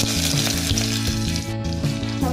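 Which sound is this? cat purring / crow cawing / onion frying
onion frying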